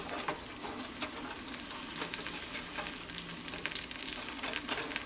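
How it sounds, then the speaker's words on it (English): Food sizzles and crackles steadily in a hot pan, close up, with scattered pops and faint scraping throughout. "It's just starting to sizzle, so it's time to flip these over."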